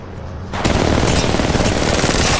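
Sustained automatic gunfire from Apex Legends Mobile, a burst of rapid loud shots starting abruptly after a quieter moment and continuing densely to the end without pause.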